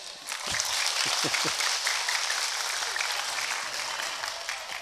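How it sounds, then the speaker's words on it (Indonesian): Dense, steady audience applause at an alumni gathering in Surabaya, a large crowd clapping continuously and evenly throughout, with a few faint voices beneath. "Ayo tepuk tangan semuanya"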